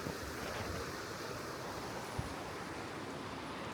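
A river flows beside the Suwa Yakata bridge in Katsuyama, Fukui, giving a steady broadband rushing of water, moderately loud and continuous, with a brief soft thump partway through.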